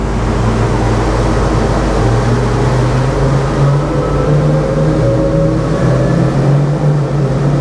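The quad outboard engines of an Ocean Alexander Divergence 45 drone loud and steady as the boat climbs onto plane, their pitch rising slowly over a continuous low rumble of water and wind.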